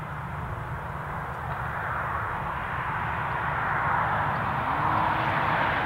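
British Airways airliner taxiing up to the gate at Newcastle International Airport: a steady, distant jet engine rumble that slowly grows louder, heard alone without talk.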